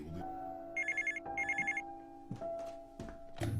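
An old-style telephone bell rings in two short trilling bursts, fairly close and clear, followed by clunks and handling noises.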